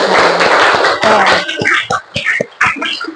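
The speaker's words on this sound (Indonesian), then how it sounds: "Tepuk tangan untuk kita semua." Students in a Grade 7 Indonesian classroom clap together briefly at the end of a poetry lesson, a close, uneven patter of hand claps with some voices mixed in.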